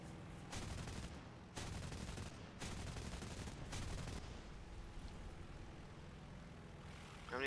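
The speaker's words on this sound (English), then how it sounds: "They're shooting at me now." Enemy gunfire in a jet combat video game arrives in several rapid bursts over the first few seconds and then trails off into a low engine-like rumble.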